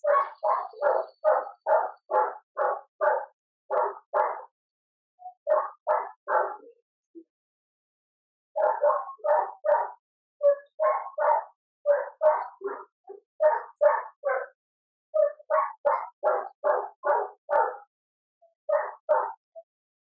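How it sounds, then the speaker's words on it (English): A neighbor's dog barks repeatedly in steady rhythmic bursts of rapid barks, moderately close and alone, pausing briefly between runs. "You might even hear the sounds of our neighbor's dog barking"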